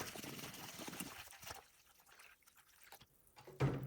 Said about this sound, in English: And then I just pour regular tap water over the bits.